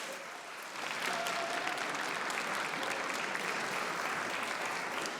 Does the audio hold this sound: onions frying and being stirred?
no